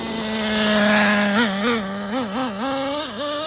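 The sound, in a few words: Traxxas Nitro Slash nitro RC truck engine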